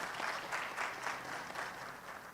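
Steady applause from a conference audience at a biomethane panel, many hands clapping at once in a dense, continuous patter that fades slightly toward the end.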